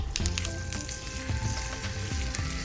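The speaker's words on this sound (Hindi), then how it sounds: "अब तुरंत छौंक को चटनी के ऊपर डाल देना है।" Steady close sizzling and crackling of a hot oil tempering with curry leaves poured over tomato onion chutney, with a few brief clinks and stirring knocks over the continuous fry.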